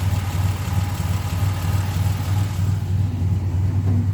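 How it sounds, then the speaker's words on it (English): A 1969 MG MGC Roadster engine with rebuilt carburetors idles steadily with a deep, even low rumble, continuous and smooth throughout. "Rebuilt carburetors, wonderfully quiet engine."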